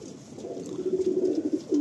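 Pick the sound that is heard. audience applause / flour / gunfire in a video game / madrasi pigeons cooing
madrasi pigeons cooing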